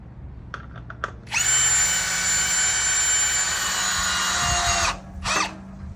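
A power drill drives a longer screw into a crawler suspension bridge: a few faint clicks, then a loud, steady whine for about three and a half seconds, followed by one short final burst.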